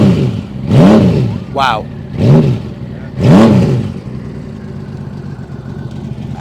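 A motorcycle engine is revved three times, each blip rising and falling smoothly, and then settles back to a quiet idle. A person exclaims briefly between the revs.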